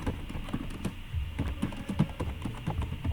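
Close computer keyboard typing, a steady run of quick key clicks with irregular rhythm and no voices.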